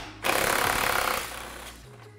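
Impact tool loosening a 10 mm bolt on the intake tube of a 2020 Jeep Gladiator, a loud rapid hammering burst of about a second that tapers off, close up and with no talk.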